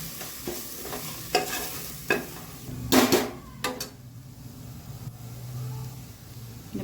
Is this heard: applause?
no